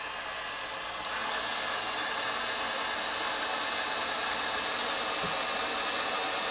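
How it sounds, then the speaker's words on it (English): Heat gun blowing hot air to loosen the 3M adhesive under an iPod Touch 4th generation screen, a steady loud whooshing roar that switches on after about a second and runs continuously. "Now when using the heat gun, you definitely want to keep it moving."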